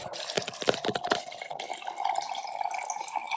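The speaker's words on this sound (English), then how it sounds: "All I hear is the waterfall over here." Continuous rushing water from a waterfall nearby, a steady broadband wash of splashing with some brief sharper drips and clatter early on, fairly faint and even throughout.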